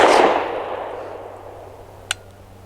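A Canik METE SF pistol fires a single Federal Punch 124 grain round, a sharp loud crack at the start that rings out and decays over a second or two, followed by a brief small metallic clink, likely the ejected casing landing.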